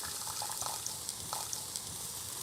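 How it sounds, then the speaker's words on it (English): Chianti red wine poured into a saucepan of tomato basil sauce, a steady close liquid splash and trickle lasting the whole moment, with no talking. "I'm going to put in a 1/4 cup of Chianti."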